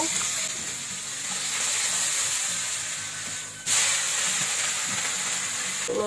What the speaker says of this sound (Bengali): আমার মাছ একদিকে ভাজা হয়ে গেছে,